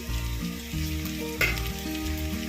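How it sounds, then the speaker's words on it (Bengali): Chopped garlic frying in oil for a spiced Bengali egg tadka, a steady close sizzle that runs for the whole stretch alongside tonal background music, with one brief louder burst midway. "হালকা ভাজা হয়ে গেলে এবার দেবো রসুন কুচি।"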